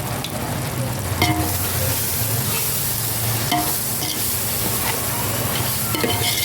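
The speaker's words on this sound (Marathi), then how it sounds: "वाटण हे परत परतून घ्यायचंय" Biryani masala paste is sautéed with a ladle in a pan over a wood-fired stove for chicken dum biryani, giving a continuous close sizzle and hiss with scraping stirs throughout.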